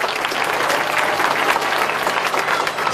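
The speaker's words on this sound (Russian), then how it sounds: "Давайте аплодировать" A crowd of hockey fans applauds player Jan Mucha at a club meet-and-greet, dense steady clapping filling the space throughout, close and loud with no talk over it.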